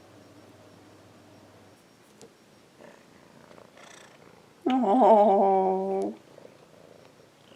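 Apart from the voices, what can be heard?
domestic cat meowing and purring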